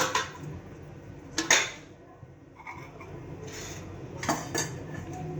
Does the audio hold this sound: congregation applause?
no